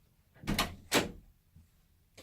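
A door opens indoors with two quick whooshing, rattling sweeps close by, followed by a faint soft knock, in an otherwise quiet room.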